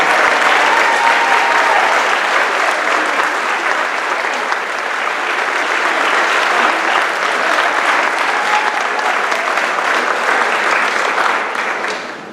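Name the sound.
audience applause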